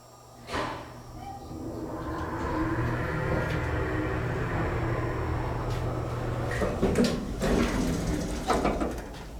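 Vintage 1989 Toshiba traction elevator at a resort: a thud as the door closes, then a steady rising motor hum as the car starts moving, with a few clunks near the end and someone speaking.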